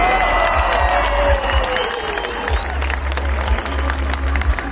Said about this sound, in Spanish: Ahora sí les voy a pedir un aplauso